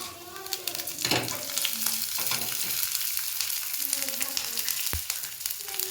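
Garlic roasts in a hot pan for a bitter gourd chutney powder, a steady crackling sizzle punctuated by irregular clinks and scrapes of stirring close by.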